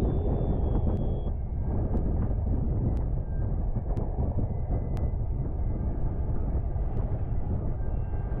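Wind while sailing, a steady broadband rush and rumble on the microphone that runs unbroken throughout, loud and close, with faint regular ticks and no talk.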